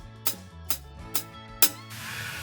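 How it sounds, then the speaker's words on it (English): Four evenly spaced, tight metallic hi-hat strikes, played as a ride, tick over a low sustained hum, ending in a brief washy shimmer. "The hi-hat is also used as a ride"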